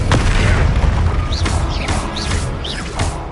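Descendo spell impacts during a Hogwarts Legacy duel, with a heavy booming slam near the start and a series of swooshing magical whooshes over dense, continuous battle noise.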